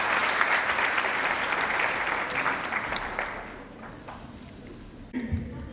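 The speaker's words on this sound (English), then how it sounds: "The applause is well-meaning" An indoor audience applauds with a dense, steady patter of many hands that gradually thins and fades, ending with a few scattered claps and a brief thump.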